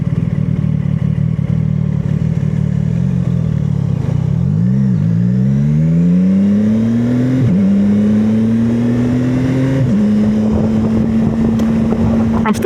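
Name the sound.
CFMoto 675SS motorcycle riding through the city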